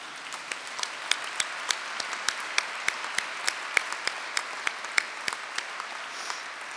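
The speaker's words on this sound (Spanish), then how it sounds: "Un aplauso para las abuelas." Applause for the grandmothers at a human rights observatory event, sparse, individually audible claps forming a thin steady patter, fairly quiet and distant.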